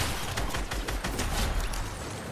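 Dense rapid gunfire in a Fortnite match during a competitive cup, with bursts of close shots packed into a continuous fusillade over a couple of seconds. The shots are loud and punchy, and no one talks over them.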